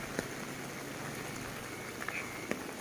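Steady rain falls on a quiet Javanese village, a dense even hiss of drops on surfaces with a few sharper drips standing out, continuous and moderately loud with no voices.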